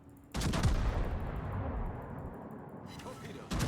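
Naval guns boom in the World of Warships video game as ships fire on an enemy destroyer. A heavy burst hits at once and rumbles on, then fades and is followed by another sharp salvo at the end.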